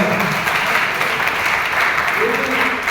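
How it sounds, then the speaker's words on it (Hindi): Audience applause for achievers at a direct-selling (MLM) event, a steady, dense wash of clapping held at the same loud level throughout, with music and voices blended into the crowd noise. "शानदार, जोरदार तालियां म्यूजिक हमारे सभी सुपरस्टार अचीवर्स के लिए।"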